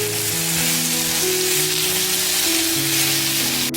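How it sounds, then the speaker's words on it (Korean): Potatoes stir-fried with onion and carrot over medium heat in a pan give a loud, steady sizzle with faint scraping of stirring, alone and without talk. "감자가 거의 익을 때까지 6, 7분 정도 볶아주셨으면 양파와 당근을 모두 넣어주세요. 그리고 중불에서 볶아주세요."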